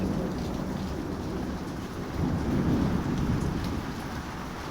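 Heavy rain pouring outside a house doorway with rumbling thunder, a dense continuous wash of rainfall with a deep low roll swelling midway, no voices.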